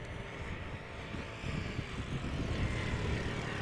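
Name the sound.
Embraer 190 airliner landing at Amsterdam Schiphol Airport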